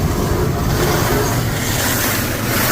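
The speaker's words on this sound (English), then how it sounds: "here comes the high pressure water" High-pressure water spraying onto the hard top of a 2025 Ford Bronco Base, a steady, loud, broadband rushing hiss with no pauses, close and alone without talk.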